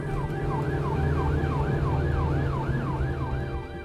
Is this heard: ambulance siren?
yes